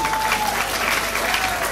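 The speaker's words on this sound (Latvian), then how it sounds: "Aplaus vēlreiz varētu lūgt no visiem jums" Dense, steady applause from an audience at a Miss & Mister Ogre 2015 pageant, sustained clapping of a crowd filling the room evenly, with a faint tone running beneath it.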